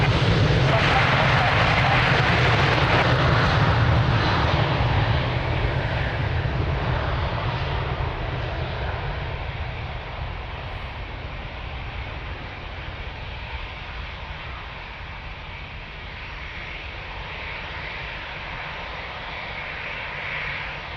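An airliner taking off from runway 02 at Lisbon Airport, a loud, broad engine roar at full thrust that slowly fades as it climbs away, with radio talk faintly heard beneath it.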